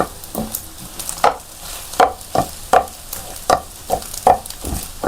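Scrambled egg pieces frying in a pan are stirred and broken up with a spatula, making a rhythmic series of close scraping strokes, roughly two per second, over a light sizzle.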